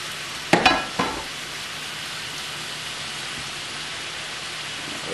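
Ground hamburger meat browning in a skillet for krautburger filling, a soft continuous sizzle with a few sharp clinks and scrapes of a utensil against the pan early on.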